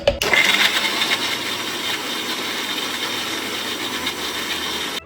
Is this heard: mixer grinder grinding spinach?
yes